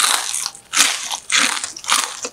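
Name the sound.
biting crunchy fried tofu (tahu pocong)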